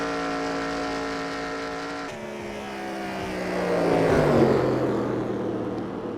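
Cup car from NASCAR Racing 2003, the original Papyrus car in the sim, drones with a steady engine note at high speed and then swells louder as it passes, with no talking.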